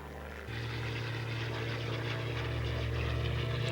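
Reconnaissance airplane flying over jungle, its propeller engine droning steadily and growing louder after a brief start, a constant low hum with broadband roar throughout.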